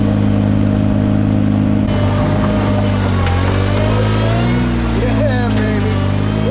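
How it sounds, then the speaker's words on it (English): A Ventrac compact machine pushes and squeezes trash into a dumpster. Its engine drones loudly and steadily, with a rising strain and some scraping and crunching as the load gets compacted. "Just push and squeeze and squish everything as far into that dumpster as absolutely possible"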